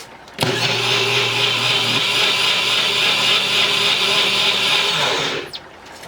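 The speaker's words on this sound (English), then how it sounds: "I'm gonna make this nice and smooth in the bullet here. It's gonna be noisy." A small bullet blender blending soup whirs loudly at a steady high pitch for about five seconds before cutting off abruptly.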